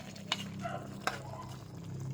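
Chicken drumsticks with pineapple are stirred in a pan, two soft utensil knocks over a faint simmering bubble, with brief murmured speech in between.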